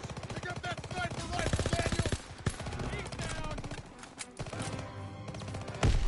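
Dense automatic gunfire rattles through a World War II battle in the video game Call of Duty WW2, loud and continuous with sharper single shots mixed in and voices calling out over the shooting.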